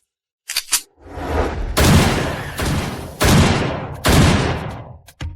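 Gunshots at a target shooting contest: several loud, sharp reports fired one after another at roughly one-second intervals, each followed by a brief fading tail.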